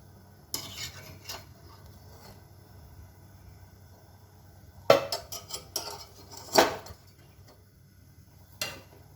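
Butter naan roasting on a tava over a high flame, quiet stretches broken by a few sharp metallic taps and scrapes of a utensil against the pan, close and sparse.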